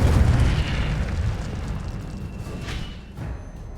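Incendio fire spell blast in Hogwarts Legacy, a loud roaring whoosh with a deep rumble that slowly fades, with no talking.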